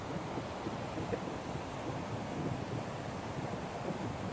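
A steady, broad rush of a river flowing in Ladakh fills the clip evenly, with a faint wind-like texture and no voices.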